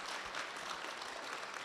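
An audience at a university lecture applauds to thank the rector, a soft, even wash of many hands clapping that sounds distant and keeps up at a steady level throughout.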